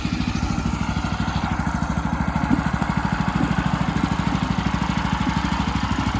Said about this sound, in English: They use this tractor here